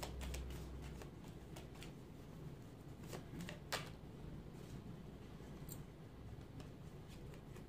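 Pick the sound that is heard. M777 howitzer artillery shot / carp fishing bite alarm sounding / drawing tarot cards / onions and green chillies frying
drawing tarot cards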